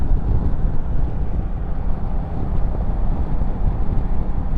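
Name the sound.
wind noise during open-roof car drive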